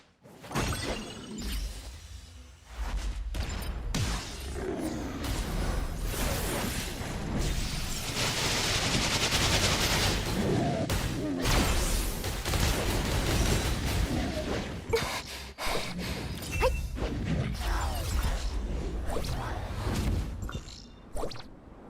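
Fireworks going off in a video game, a loud, dense stream of crackling bursts and booming pops that runs almost without pause for about twenty seconds.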